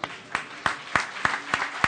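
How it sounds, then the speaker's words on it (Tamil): A church congregation claps in a steady rhythm, about seven sharp, evenly spaced claps ringing through the room, with no voices. "கைதட்டுவோமா?"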